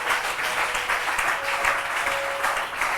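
A church congregation applauds during a French-language worship service, a dense, steady clapping that fills the whole short stretch.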